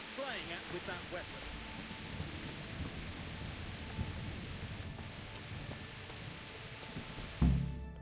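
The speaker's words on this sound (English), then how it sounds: "Still raining." Rain and rumbling thunder in the medieval video game Kingdom Come: Deliverance make a steady, noisy wash throughout, with a low thump near the end.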